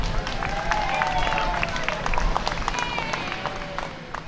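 A crowd applauds and cheers on a North York street as police take a knife-wielding man into custody on a TTC bus after a nearly six-hour standoff. The clapping is dense and steady throughout, with the crowd's voices mixed in.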